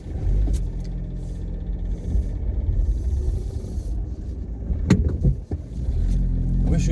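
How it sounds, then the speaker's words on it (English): A Vauxhall Corsa E drives on a road test on a cold morning while suffering an engine-warning fault and stuttering, a steady low engine and road rumble from inside the cabin, with a few brief clicks and knocks and occasional voice. "this is your road test here of the Vauxhall Corsa E"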